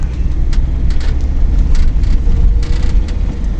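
A car drives along a country road between Pochaiv and Losiatyn in western Ukraine, with a steady, loud low engine and road rumble heard from inside the cabin and a few faint ticks on top.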